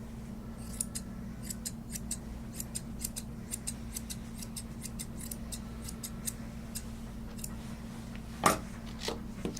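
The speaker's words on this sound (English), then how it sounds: "We're going to trim in between my fingers. With my straight scissors." Straight grooming scissors snipping the feathered fur between a dog's toes, a steady run of quick, crisp metallic clicks close to the mic over a constant low hum, with one louder snip near the end and no talking.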